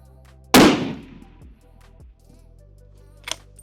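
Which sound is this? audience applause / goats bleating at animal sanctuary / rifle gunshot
rifle gunshot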